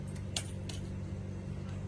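A brief metallic jangle of a bunch of keys, with two or three quick shaking bursts over a steady background hum.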